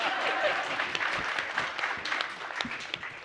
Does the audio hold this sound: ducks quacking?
no